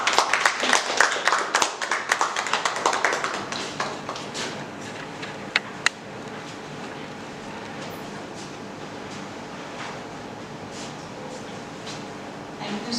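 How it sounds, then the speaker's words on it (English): A room audience gives a round of applause to welcome a speaker to the dais at an academic event, with dense clapping for about four seconds that thins into scattered claps and a quiet murmuring room. "let us welcome our speaker onto the dais with a round of applause"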